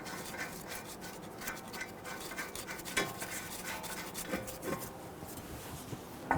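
A nut is threaded by hand onto the upper control arm of a Dodge Charger front strut assembly, giving soft, close scratchy rubbing and faint metallic ticks in a steady, irregular rhythm.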